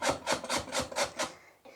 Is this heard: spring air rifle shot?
no